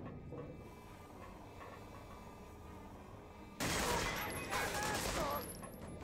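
A burst of dense, sustained gunfire erupts in the World War II shooter Medal of Honor: Frontline, loud and close, after a stretch of quieter game ambience and mechanical noise.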